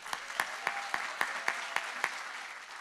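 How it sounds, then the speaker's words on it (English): Sparse applause at a gubernatorial forum held by a Filipino community in Guam, greeting a congresswoman in the audience: roughly eight distinct, evenly spaced claps ring out, quiet and somewhat distant. "Round of applause for Congresswoman Madeline Berdallo"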